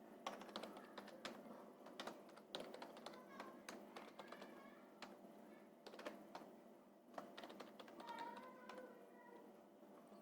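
Computer keyboard typing during a school computer lab data-entry exercise, a steady run of soft close key taps with brief pauses, under faint background noise and occasional quiet voice.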